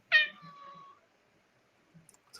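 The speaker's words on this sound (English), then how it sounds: "It was a cat" A cat gives one loud, drawn-out meow that starts sharply and then tapers away, followed by near silence broken only by a few faint clicks.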